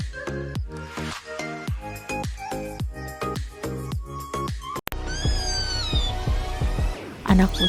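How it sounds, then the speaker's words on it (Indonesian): A kitten meows repeatedly in short, bright cries with an even rhythm, then gives a longer, higher wail, heard close and clear, mixed with a voice speaking. "Anak kucing disebut bilatung."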